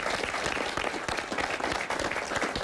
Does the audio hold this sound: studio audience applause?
yes